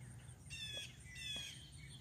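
Birds near a feeder give two brief, squawky calls about a second apart, faint against a soft outdoor background hum.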